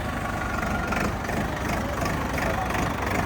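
A Mahindra 475 DI tractor diesel engine idles close by in a steady low rumble with a continuous even throb, and someone speaks over it.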